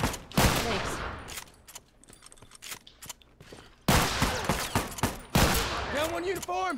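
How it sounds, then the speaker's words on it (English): Gunfire from a burst weapon and a sawed-off shotgun in The Last of Us, with sharp, loud reports in clustered volleys and a pause between them, then two heavy blasts near the end. "I hit him with a burst and two shorty shots"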